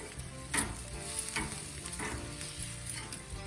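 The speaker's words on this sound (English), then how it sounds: "get our pepper and onion mixture on the direct side to start sizzling away" Steady crackling sizzle of sausages with peppers and onions cooking on a hot grill, with occasional louder pops, close up and without any voices.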